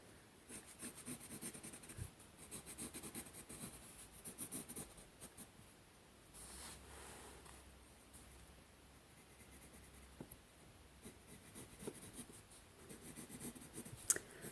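Steady scratchy strokes of Lyra Rembrandt Polycolor colored pencils on a Secret Garden coloring book page, soft and close, continuing in a quiet rhythm with brief pauses and no talking.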